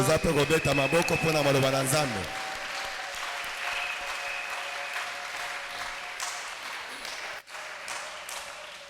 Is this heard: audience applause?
yes